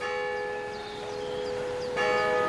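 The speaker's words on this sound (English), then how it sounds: "The bell tolls." Church bell tolling with a sustained ringing hum, then a fresh strike near the end that brightens the tone; no voices.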